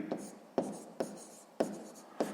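A pen writes on paper while working a math problem, five quick scratchy strokes landing at a steady pace, close and quiet with no voice over them.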